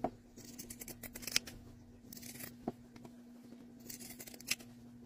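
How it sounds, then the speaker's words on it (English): Pinking shears cut through the fabric of a homemade cloth pad, giving a handful of crisp, close snips spaced a second or two apart over a quiet room with a faint steady hum. "I'm using pinking shears and cutting approximately 1/4 way from the sew line"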